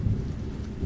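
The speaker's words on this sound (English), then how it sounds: "So, you can hear the thunderstorm in the background." A thunderstorm rumbles in the background with a low, continuous roll of thunder under a wash of falling rain, moderately loud and steady for a brief moment.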